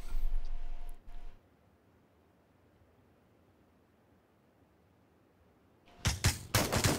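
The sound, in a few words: gunfire in a battle royale video game esports match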